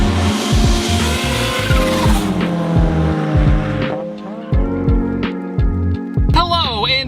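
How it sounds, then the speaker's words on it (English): A 2019 Ford Mustang EcoBoost with a 10-speed gearbox drives hard, its engine revving through shifts with a sharp tire squeal near the end, under someone talking. "Hello and welcome to a 2019 Mustang Ecoboost 10-speed."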